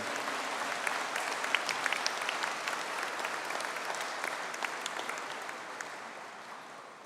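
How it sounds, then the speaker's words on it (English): Sustained applause from a large audience honouring graduates of a Higher Diploma in Science and Agile Software Design at a conferring ceremony, dense steady clapping that gradually thins and fades toward the end. "Could I ask for a collective round of applause"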